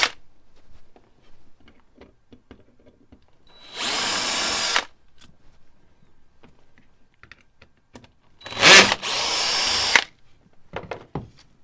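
A power driver turns screws in an airsoft gun in two short bursts, the second pair close together, loud against a quiet room with faint clicks and handling noises between.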